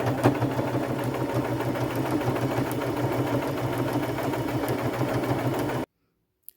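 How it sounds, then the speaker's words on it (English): A sewing machine stitches a patch onto a thrifted bag with green thread, a steady, close, continuous mechanical whir with rapid regular needle rhythm, running alone for about six seconds before stopping abruptly. "I will go to my machine and I will just carefully stitch around that"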